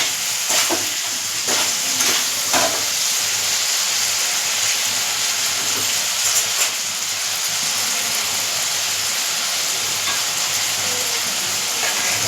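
Soybeans fry with potato, onion and peas in a pan, giving a steady close sizzle with occasional stirring clinks throughout.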